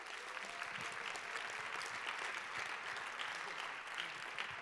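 A steady, dense wash of audience applause fills a closing ceremony at a conference, clapping for the technicians. It holds at an even level throughout, with no voices over it.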